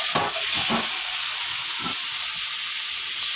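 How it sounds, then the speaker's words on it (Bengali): Marinated chicken pieces fry in butter and oil in a hot karahi for butter chicken, a loud steady hiss and sizzle with a couple of low thumps of stirring. "মাইনেট করে মুরগির মাংসগুলো ভেজে নিচ্ছি"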